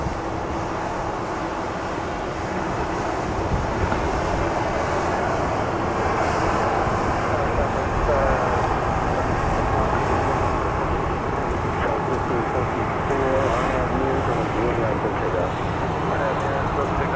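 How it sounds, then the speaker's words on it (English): Aircraft at Dallas Love Field airport give off a loud, continuous broadband engine roar that holds steady throughout, with faint voices underneath. "We've got 2 aircraft waiting to take off."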